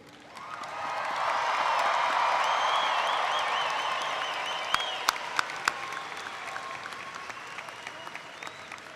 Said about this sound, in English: Let's give one more racer cheer as loud as a Jonathan Farrell slam dunk for our class of 2015